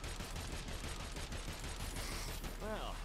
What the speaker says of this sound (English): You can just literally run around and just continue shooting.